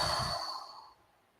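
A single long, forceful exhale close to the mic during a Wim Hof breathing exercise, loud at first and then fading into quiet.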